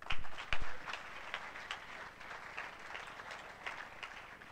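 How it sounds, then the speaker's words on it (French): Scattered applause in a church, a few loud early claps followed by a lighter, steady patter of hands clapping that continues evenly to the end. "On peut les applaudir."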